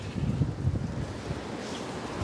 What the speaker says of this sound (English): It's also raining and very windy